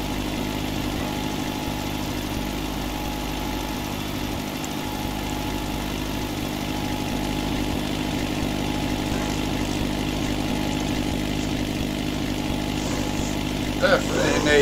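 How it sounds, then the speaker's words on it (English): Steady engine drone from a machine powering a fertilizer spreader as crops are top-dressed, a constant mid-pitched hum that runs through the whole stretch with a faint rise near the end. "Turn on the spreader ready."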